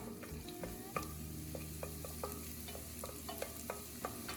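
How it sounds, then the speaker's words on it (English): Garlic sizzling in oil in a pot on a gas stove, with a steady frying hiss broken by repeated clicks and scrapes as it is stirred. "add the garlic and stir until it turns a light golden color"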